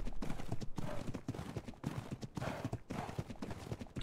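Horse hooves clip-clop in the video game ARK, a quick rhythmic trotting of sharp hoofbeats, close and clear, with a faint whinny and game ambience behind.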